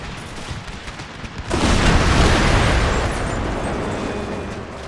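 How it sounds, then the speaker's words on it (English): Grenades exploding on a Napoleonic-era battlefield in Empire: Total War, a sudden loud burst of crackling blasts that swells, then rumbles on as a sustained roar with scattered gunfire. "They threw another round of grenades."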